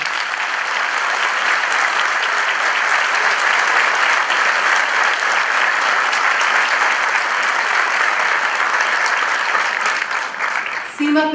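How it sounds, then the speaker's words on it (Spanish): Audience at a motivational talk breaks into loud, steady applause that stays dense and even for about eleven seconds before tapering off at the end. "les quiero pedir un aplauso para ellos"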